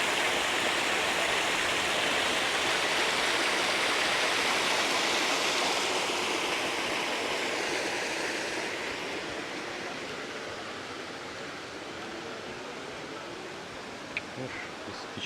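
Water rushing steadily from a mountain cave at the Algar waterfalls in Spain, a loud, continuous broadband roar close by that eases slightly toward the end, with no talk over it.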